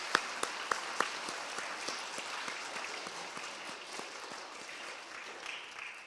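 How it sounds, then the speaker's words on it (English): A crowd at a 5th grade DARE graduation at Parkway Middle School applauds the graduating students: a few sharp, close claps at the start give way to a steady, moderately faint wash of clapping from many hands. "Give one last round of applause for everybody."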